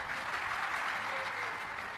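An audience at a religious discourse claps steadily, a dense even patter of many hands sustained at moderate loudness with no pauses.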